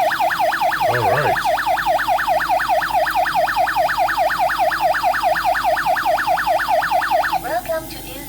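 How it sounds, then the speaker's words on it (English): An intelligent voice oxygen gas detector sounds a loud, continuous warbling alarm siren, rapidly rising and falling in a steady cycle for about seven seconds before cutting off, with a synthetic voice announcement underneath at the start. "Attention please. Oxygen gas concentration exceeded."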